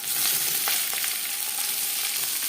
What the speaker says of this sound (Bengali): পরিমাণ মতো সর্ষার তেল গরম করে নিয়েছি দিয়ে দেবো পেঁয়াজ কুচি